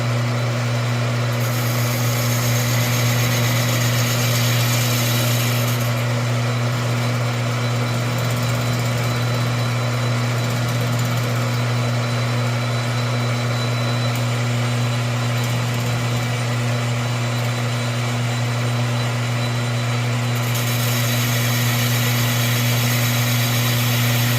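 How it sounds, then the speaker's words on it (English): A lathe turning a Case 310G brake drum on auto feed, a steady loud machine hum with a constant low drone and a hiss of cutting that brightens in the middle stretch, continuous and close, no talking. "we are now going to start with the auto feed all the way across."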